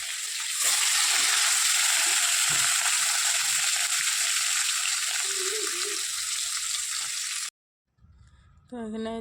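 Fish sizzles in a pan of hot oil in a home kitchen, a steady hiss that carries for several seconds, then cuts off abruptly and is followed by a short, faint rising tone.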